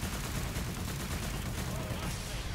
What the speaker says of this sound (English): I guess the assault rifle is easy enough to use